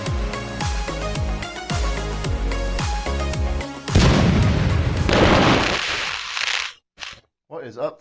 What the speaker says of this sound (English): So watch some fireworks.